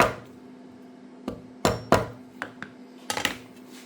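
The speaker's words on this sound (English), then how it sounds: "Gonna give it a little bit of a tappy tap tap." A hammer tapping a red dot optic into a milled Glock Gen 4 slide, with several sharp metallic taps spaced irregularly, some in quick pairs, over a quiet background hum.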